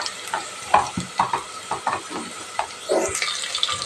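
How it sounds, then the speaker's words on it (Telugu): Ginger-garlic paste fries in hot oil for bagara rice, a steady close sizzle broken by repeated scraping strokes of a spoon stirring the pan, with no voices. "ఇది పచ్చివాసన పోయేలాగా ఫ్రై చేసుకోవాలి."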